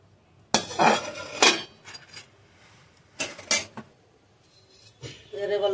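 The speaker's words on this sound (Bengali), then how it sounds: "বসাই দিলাম কড়াই।" A metal wok being set down on a stove, with several loud, close clanks and knocks of cookware in separate bursts and quieter rattling between them, plus some faint background voice.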